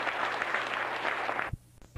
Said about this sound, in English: let us all give a big applause to our most welcome district supervisor